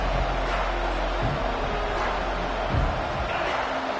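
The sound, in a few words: football stadium crowd noise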